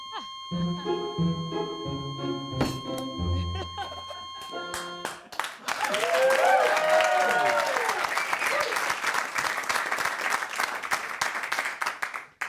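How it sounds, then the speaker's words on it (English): After a stretch of talking and laughter, a large audience breaks into sustained, loud applause that fills the room and carries on steadily for several seconds. "They're applauding the death of Gene."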